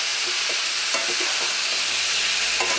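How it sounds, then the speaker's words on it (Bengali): Boiled taro stirred into a spice paste frying in a pan, a loud steady sizzle with a few soft scraping strokes of the spoon. "এবার কচু সিদ্ধ করা কচুগুলো ওর মধ্যে দিয়ে দেবো।"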